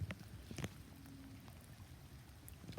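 Steady rain falls over floodwater in a video game, a soft continuous patter with a few brief louder clunks near the start and no talk.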